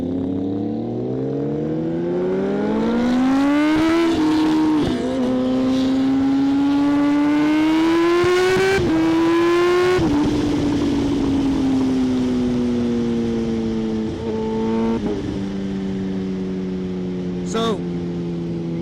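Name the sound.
Kawasaki ZH2 supercharged motorcycle accelerating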